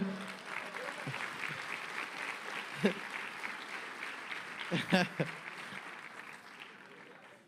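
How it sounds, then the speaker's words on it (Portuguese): Applause from an audience at a Portuguese-language religious sermon, a steady wash of clapping sustained for several seconds at moderate level, with a couple of brief louder bursts and some voices mixed in. "aplauda o seu"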